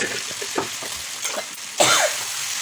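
Chicken frying and being stirred in a pan as the meat is cooked down in oil, a steady loud sizzle with spoon scrapes and a sharper burst near the end.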